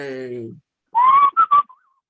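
A short whistled tune of a few rising and held notes, clear and close, following a brief burst of voice.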